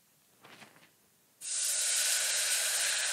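Chicken stock poured into a hot frying pan with rotisserie chicken, a sudden loud, steady sizzle and hiss bursting in after a quieter moment and continuing strongly.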